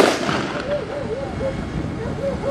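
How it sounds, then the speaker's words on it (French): An artillery rocket launcher section fires during an open-day demonstration, giving a sustained, loud roar of broadband rumble with a faint wavering tone over it for the whole stretch. "La section va tirer."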